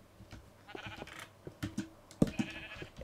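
Minecraft sheep bleating in short game sounds, a few soft bleats mixed with faint clicks and shuffling, quiet and close.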